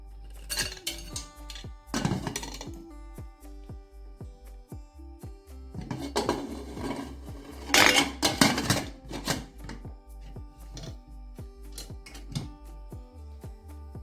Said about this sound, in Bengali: এবার একটা ঢাকনার সাহায্যে আমি ঢেকে দেব আর এই ঢাকনাটার আমি এই সিটি দেওয়ারটা আমি খুলে নিচ্ছি আর এই রাবারও আমি খুলে নেব